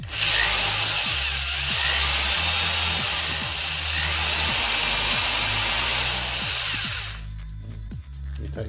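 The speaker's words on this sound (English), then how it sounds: "Then I take my rasper and I'm just going to enlarge the hole." A hand rasp scraping out a hole in a Mego Star Trek action figure, loud close-up rhythmic filing strokes repeating about every half second, stopping near the end.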